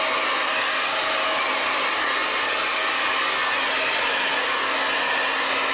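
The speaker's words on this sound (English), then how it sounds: "Really, the motor is very strong." A strong electric motor drawing about 120 watts runs with a loud, steady whir and rush of air, unbroken and alone throughout.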